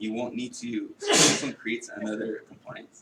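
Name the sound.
sneeze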